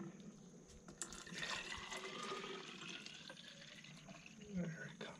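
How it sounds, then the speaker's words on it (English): Purified drinking water pours steadily into a 750 ml travel water bottle, a continuous close splashing fill that runs throughout with faint voices in the background. "We're going to fill up our water bottles."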